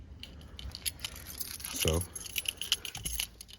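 Car keys jangle and clink close by, with a louder metallic rattle in the middle and a softer clink near the end, while someone speaks briefly.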